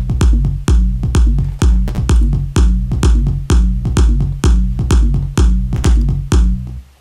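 Kick drum and bass in the low end of an electronic dance mix, pounding in a steady, loud, driving pattern of repeated heavy hits with no voices.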